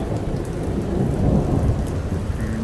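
Thunder rumbles low and continuous through an October evening rainstorm, with steady rain falling on surfaces close by and no voices.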